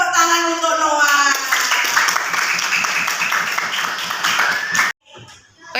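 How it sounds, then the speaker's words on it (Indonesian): Classroom applause for a pupil named Noah during a primary school maths lesson on fractions; a short burst of children's clapping, rhythmic and close, with voices over it, stopping abruptly before a brief quiet. "tepuk tangan untuk Noah"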